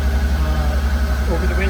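A Suzuki V-Strom 650 motorcycle engine idles with a steady, smooth low rumble and even pulsing throughout, close by and continuous.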